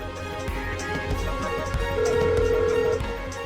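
A telephone ringing out on a call, a tonal ring tone over a low background hum, moderately loud.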